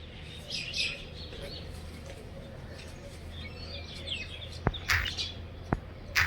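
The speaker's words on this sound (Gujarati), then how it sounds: "હા ચકલા" Sparrows chirp outdoors in the morning as a car is being cleaned. Faint, scattered tweets sit over a low background rumble, with a few sharper chirps near the end.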